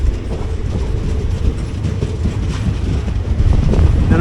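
The 17235 Nagercoil Express rolls into Kochuveli station, a continuous rumbling of wheels on rails with rhythmic clacking and some wind buffeting, heard from on board.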